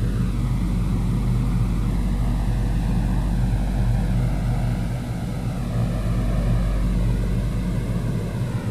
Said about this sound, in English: if anybody can tell me if my engines are too loud or anything like that